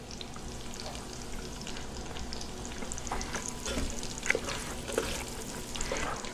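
Meat for feijoada fries in a pan with a soft, steady crackling sizzle, with a few brief stirring clinks, heard up close at low volume and with no talking.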